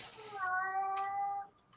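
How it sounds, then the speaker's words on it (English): A house cat named Navi gives a single drawn-out meow, clear and fairly close, lasting about a second in a quiet room. "I hear Navi meowing."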